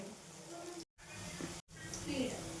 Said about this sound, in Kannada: ಸ್ವಲ್ಪ ಕ್ರಿಸ್ಪಿಯಾಗಿ ಆಗೋವರೆಗೂ ನಾವು ಎಣ್ಣೆಯಲ್ಲಿ ಕರಿಬೇಕು ಇದನ್ನು